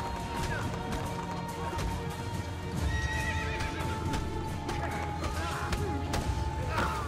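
Horse hooves clip-clop at a gallop with a loud neigh and whinny in Assassin's Creed Brotherhood, set over dense game sound effects and occasional crashes, steady and close throughout.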